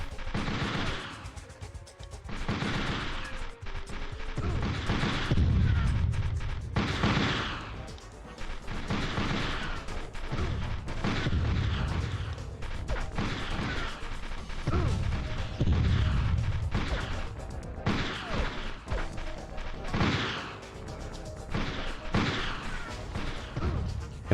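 Grenade blasts in Army Men: Green Rogue on PlayStation: repeated loud booms and crashes every few seconds over continuous gunfire and battle noise, near and heavy.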